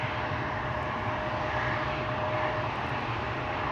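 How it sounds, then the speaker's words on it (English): A KLM airliner on approach at Amsterdam Schiphol Airport produces a constant, loud engine roar, a dense broad rumble with a faint whine, heard alone without talk. "This is definitely coming this way. KLM Flight 597."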